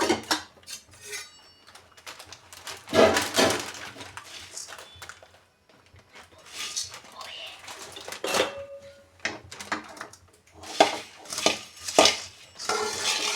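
Puffed rice being dry-roasted in a pan until crisp for laddus, heard as dry rattling, scraping and clinking bursts that come and go, fairly close and with no talk.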